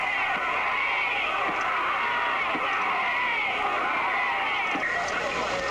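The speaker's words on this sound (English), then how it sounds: "Listen to this cheering." Large crowd cheering at a 1968 sports event, a steady, loud roar of many voices with a broad wash of noise that holds continuously from start to finish.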